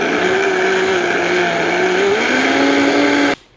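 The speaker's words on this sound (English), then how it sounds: "Get them blended till they're smooth." A kitchen blender purees sauces for a milk-braised pork shoulder until smooth, a loud, steady motor whine that dips and shifts pitch partway through before cutting off abruptly near the end.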